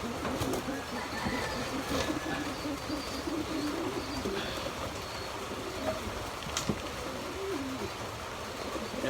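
Breeder racing pigeons coo in soft low repeated phrases in a loft on a rainy day, their calls layered over a steady background hiss, with a voice speaking faintly at times.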